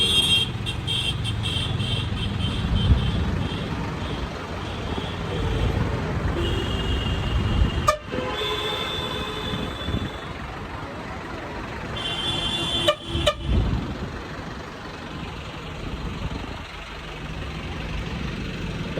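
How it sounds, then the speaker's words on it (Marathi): Cars and trucks sit in a traffic jam on the road to the Mahakumbh, engines idling under a constant rumble while horns toot in short bursts every few seconds, some near and some farther off. "ट्रैफिक तो है भाइयों, ट्रैफिक में है।"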